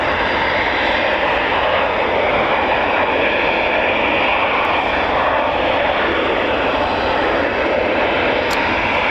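Eurofighter Typhoon FGR4 jet at RAF Coningsby, a loud, continuous broadband engine roar that holds steady from start to finish with no voices.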